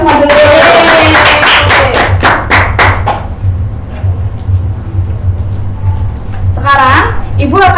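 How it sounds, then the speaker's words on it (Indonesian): Children in a grade-four classroom clap their hands in a quick, even burst of sharp claps for about three seconds, close and loud, followed by quieter room noise and a voice near the end. "tepuk tangan buat kita semua dulu"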